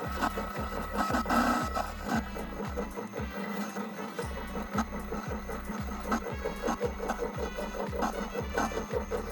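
Electric hand mixer beating butter and sugar for a Sri Lankan rich cake, a close, steady motor drone with rhythmic thumping pulses as the beaters knock through the mixture.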